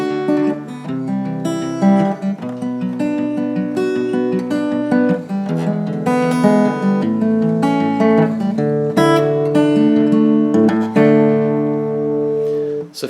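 Acoustic guitar playing the ending of a song, steady strummed and picked chords moving through changes with a final hammer-on, bright and close, with no voices.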